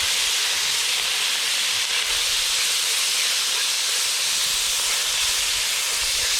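Thin-sliced ribeye steak hits a hot wok for a stir fry, giving a loud, steady, broadband sizzling hiss that holds without a break from start to finish.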